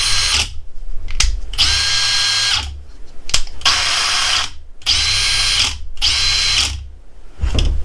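A Makita XGT 40V hammer drill running in hammering mode, loud and close, in about six bursts of buzzing, rattling percussion with short silent gaps between triggers.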